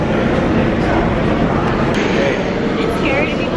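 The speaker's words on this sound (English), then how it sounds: "We're just kind of riding the subway" A New York subway train rumbles along in a steady, loud, unbroken roar with faint rattling and metallic squeals, heard from inside the car.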